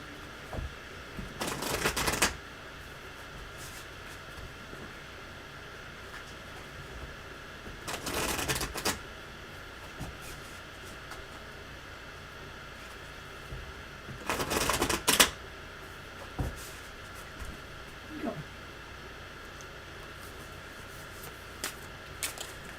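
Three short bursts of tarot cards being shuffled, each a crisp riffling flutter lasting a second or so, separated by quiet room noise.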